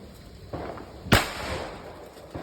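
A Deepavali firecracker bomb bursts with one sharp, loud crack in the middle, set against steady outdoor background noise with a few fainter pops around it.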